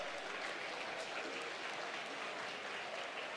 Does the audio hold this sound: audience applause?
yes